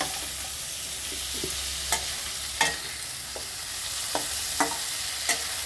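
Neem leaves dry-frying in a pan without oil, with a steady sizzle and occasional sharp scrapes of stirring against the pan.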